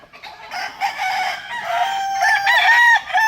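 Close by, a single rooster lets out a long, strained crow with wavering, stretched-out notes lasting about three seconds, loud and unaccompanied by voices.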